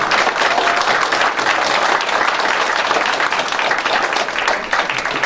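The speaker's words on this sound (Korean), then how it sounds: "힘찬 박수 부탁드리겠습니다" Steady, loud applause from the audience at a county press briefing on the Seoul–Yangpyeong expressway feasibility approval, a dense continuous patter of many hands lasting several seconds.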